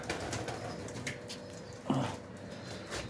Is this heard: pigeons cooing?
yes